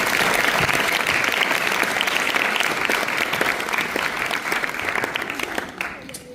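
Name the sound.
audience applause at school stage show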